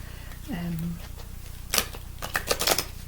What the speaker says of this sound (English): So I'm just trying to shuffle them. They're tiny little cards